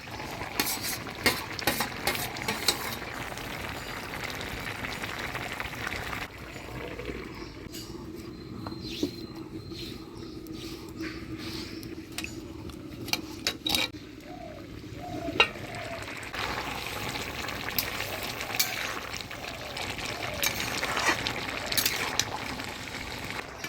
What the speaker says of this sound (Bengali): এবার ভাজা মাছগুলো দিয়ে 1 মিনিট ঢাকা দিয়ে জাল দিয়ে দিই।